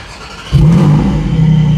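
Porsche Boxster engine starting up, a sudden loud ignition catch settling into a steady, throaty idle with a deep exhaust rumble, close and alone without speech.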